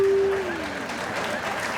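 Steady, dense audience applause fills a comedy show stage, an even wash of clapping that holds at moderate loudness throughout with a brief tone at the start.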